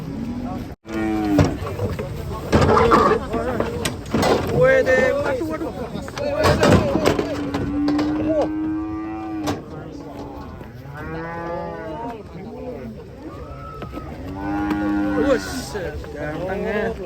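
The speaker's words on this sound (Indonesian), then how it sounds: "Ini banyak sapi lucu guys di sini guys." Several cows moo at close range, drawn-out bellows rising above a lively crowd of talking people and general farmyard bustle in a busy livestock setting.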